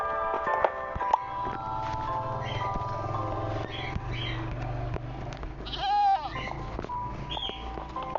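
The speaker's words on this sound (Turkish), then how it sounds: "O keçi çağırdım" A game-style goat bleat in Cubecraft with a wavering, pitch-shifting cry near the middle, set over steady background music and ambient game sounds.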